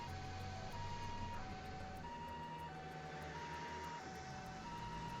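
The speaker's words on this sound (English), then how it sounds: "Do you hear that? Those are sirens." Ambulance sirens in the video game Trails to Azure wail in a repeating two-tone pattern, fairly faint and distant over a steady background rumble of game ambience.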